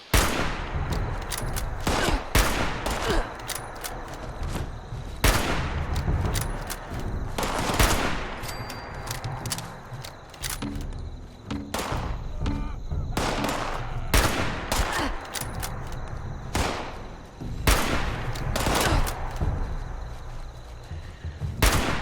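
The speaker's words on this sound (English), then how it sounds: "Hello, you're shooting me." Rapid bursts of automatic gunfire and single shots from the video game Fallout 76, loud and close, repeating irregularly through a long stretch of firefight with brief pauses between volleys.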